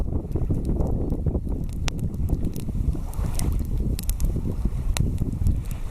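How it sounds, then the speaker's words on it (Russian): Strong wind gusting on a river bank, a steady loud roar of air buffeting the microphone with scattered crackles, no talking. "Ветер, видишь, какой вот."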